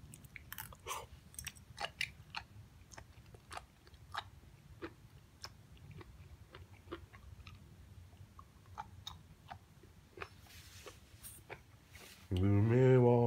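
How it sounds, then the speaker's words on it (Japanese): Loud, close chewing of food in a garage drinking session, with crisp crunchy bites and wet mastication repeating steadily for a long stretch, ending in a louder burst of noise. "あえて噛む音出しますか。"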